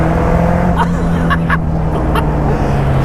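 A Caterham 310R sports car drives along back roads, its engine hum steady and loud under heavy road and wind noise, with a few faint knocks.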